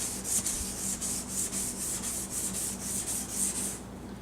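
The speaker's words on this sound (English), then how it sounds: "it's basically like a polishing, almost like a light sandpaper." A plastic car headlight lens being sanded by hand, a steady close scratchy rubbing in quick repeated back-and-forth strokes, alone with no talking.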